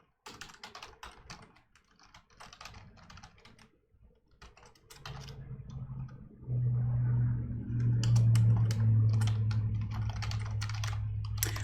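Rapid bursts of close computer keyboard typing during a 2D animation programming session fill the first half, then give way to a steady low hum that continues to the end.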